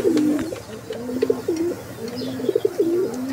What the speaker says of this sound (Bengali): প্রচুর ডাকে কবুতরগুলো।